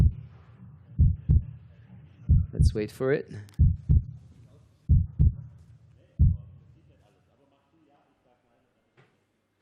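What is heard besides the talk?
heartbeat sound during tense wait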